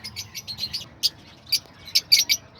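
Fischer's lovebirds and other pet birds at an aviary cage give bursts of bright, high chirps and tweets, fairly close, in irregular clusters over a quiet background.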